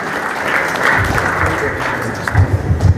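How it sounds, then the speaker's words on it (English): An audience claps after a presentation at a medical center event, with sustained applause swelling and a few louder close claps toward the end, and speech faintly mixed in. "Please, another round of applause for this wonderful presentation."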